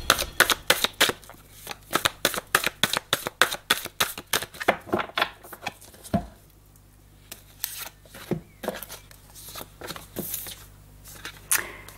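Tarot cards are cut and shuffled in a rapid run of crisp, riffling slaps, dense at first, then pausing and resuming in sparser flicks, close and clear with no talking.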